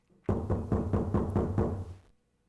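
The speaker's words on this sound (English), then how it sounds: "Someone was pounding on something vigorously." Vigorous pounding on a door in the video game Zero Escape: 999, a rapid burst of about seven heavy, booming knocks lasting under two seconds, loud and close with nothing else heard.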